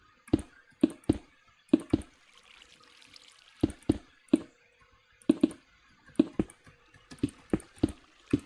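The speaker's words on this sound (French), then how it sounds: "je vais cliquer sur Alt GR" Keys click on a computer keyboard, among them the Alt Gr key, in sharp close taps that come in small bursts of two or three separated by pauses, with no talking over them.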